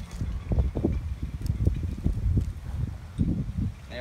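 Wind blowing outdoors buffets the microphone with a steady low rumble in gusts, close and fairly loud, with no clear voice over it.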